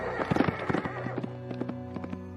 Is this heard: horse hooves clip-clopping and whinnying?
yes